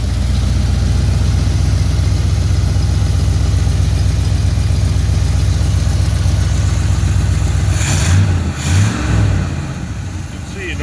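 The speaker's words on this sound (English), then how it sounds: "The engine runs." A 1968 Oldsmobile 455 V8 with a couple of exhaust leaks runs loud and close, a steady low idle rumble throughout that eases and wavers near the end.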